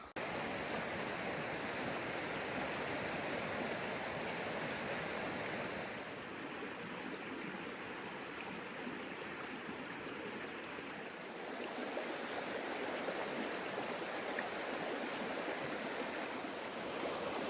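Steady, broad rushing of a waterfall in Algonquin Park, loud and constant throughout with no pauses.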